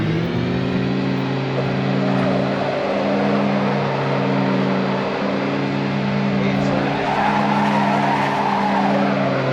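Tires squeal steadily as a van with an open differential does a burnout, a loud continuous screech layered over a droning engine that holds throughout.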